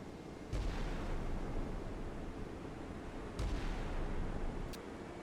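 Naval guns firing a salvo in the Sea Power missile-age combat game, New Zealand Navy ship off a coast: two heavy booming reports a few seconds apart over a steady low rumble of background noise.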